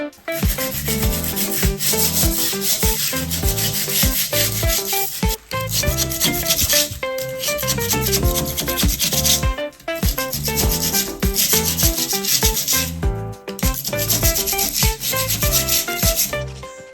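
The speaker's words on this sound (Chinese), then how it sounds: "我试着用铲刀把过于突出的地方先铲平" A putty knife scrapes high spots flat on an indoor tiled wall during a DIY smoothing job, giving a loud, continuous rasping scrape with only brief pauses.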